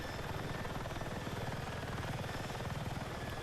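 A helicopter in the video game Battlefield 6 drones with a steady, rapid rotor chop and engine whine, continuous and fairly quiet throughout with no voices.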